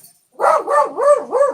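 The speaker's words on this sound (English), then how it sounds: "Yes, the dogs are still here." Indoor dogs give a quick run of four or five loud, close, wavering barks and yowls in an uneven rhythm, after a brief silence and with no talking.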